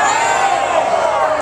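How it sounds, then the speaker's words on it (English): A crowd at a boxing press conference for the Ward versus Froch fight cheers and whoops in a brief, close burst, with voices shouting over it. "One more cheer."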